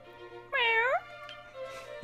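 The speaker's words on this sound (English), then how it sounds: "Meow!" A cat meows in the video game Dragon Quest 1 HD: one clear, close, rising-and-falling meow of about half a second over a quiet low hum, followed by faint softer tones and a short click.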